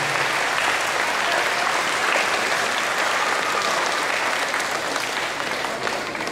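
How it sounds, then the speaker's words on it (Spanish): Steady applause from a crowd fills the whole stretch, loud and continuous, fading slightly near the end. "Un fuerte aplauso para la Universidad de Acá."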